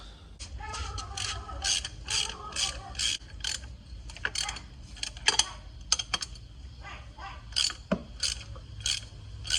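A ratchet loosens the power steering pump bolts on an H23A engine, with repeated quick clicking bursts and metallic ticks in irregular runs, close and moderately loud, no talking.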